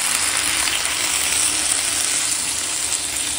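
Steady loud sizzling fills a pan of rohu fish-head curry with fried fish head, malabar spinach, egg and potato as water is poured in, a continuous hiss without talk.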